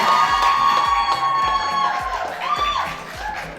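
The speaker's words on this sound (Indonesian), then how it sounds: "boleh tepuk tangan yang meriah" A crowd at a certificate-presentation ceremony cheers and shouts loudly, with excited voices overlapping above a rhythmic thumping beat; any applause is hard to pick out.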